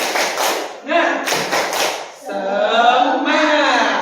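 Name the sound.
group clapping a spirit clap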